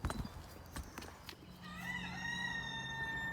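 A rooster on a farm lets out a long crow after a few knocks and clatters, with chickens clucking faintly and hooves clopping nearby.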